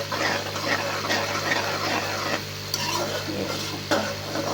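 Onions browning in a pan, frying and being stirred with a steady close sizzle and scraping, with a dog whimpering faintly in the background.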